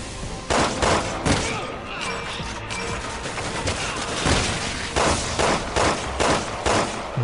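Gunfire in Resident Evil 6: repeated loud, sharp gunshots at irregular intervals, some close together in quick bursts, over a busy background of game noise.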